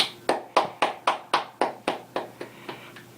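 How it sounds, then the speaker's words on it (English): A single person claps about a dozen times at a slow, even pace, each clap crisp and close, fading slightly toward the end, with no talk. "Please give yourself a round of applause."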